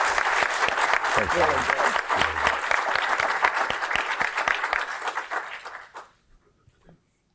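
Audience applause for a speaker at a CEO Insights business talk, loud sustained clapping from a crowd that fades out near the end, with a brief spoken thanks over it.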